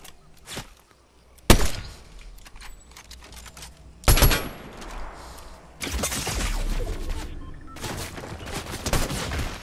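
Gunfire in Fortnite hits rocks, with sharp single shots and then several loud bursts of rapid fire. Impact thuds and short quiet gaps fall between the bursts.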